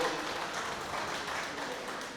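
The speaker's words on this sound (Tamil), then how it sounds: "அவர்களுக்கு இந்த நேரத்தில் மிகப்பெரிய ஒரு உற்சாகமான கைத்தட்டலோடு அவர்களுக்கு வாழ்த்துக்களை தெரிவித்துக் கொள்வோம்" A large audience bursts into steady, dense applause at an anniversary celebration, a continuous wash of clapping that holds at an even level throughout without letting up.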